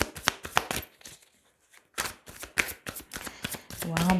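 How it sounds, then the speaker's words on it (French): Tarot cards being handled and drawn from the deck, several quick papery flicks and slaps, close and crisp, with a short quiet gap partway through and a low hum at the end. "Allez, je vais prendre 3 cartes."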